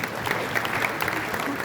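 An audience at a real estate association ceremony applauds, dense clapping from a large crowd filling the whole moment with a steady, close roar.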